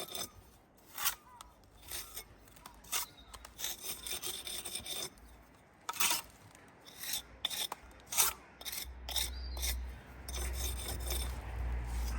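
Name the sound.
trowel scraping mortar off brick pier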